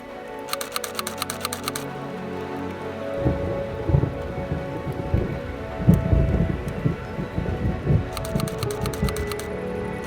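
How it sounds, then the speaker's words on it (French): Steady night rain patters with rolling, rumbling thunder building beneath it, interspersed with faint crackling bursts, the thunderstorm approaching fast. "Mais l'orage remonte très rapidement. La pluie m'atteint déjà."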